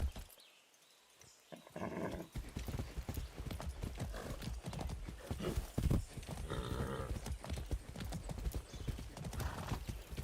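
Horse hooves clip-clop steadily in the video game Far Cry 6, loud and close, with a neigh and game sounds mixed in after a brief quiet start.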